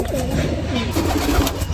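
Pet pigeons coo inside their cage, close and fairly loud, with overlapping low throaty calls repeating steadily throughout and no voices.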